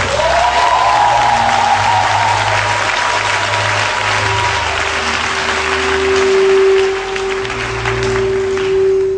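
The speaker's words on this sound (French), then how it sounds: "Un chrétien va acclamer Jésus très très fort" A church congregation cheers and applauds loudly for Jesus, a dense, sustained wall of clapping and shouting voices that swells and dips slightly, with a few sustained vocal tones rising above the crowd.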